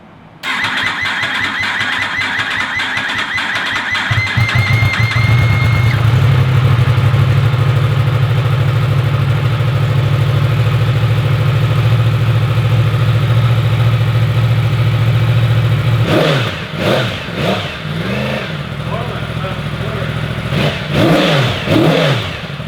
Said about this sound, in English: The bike now runs.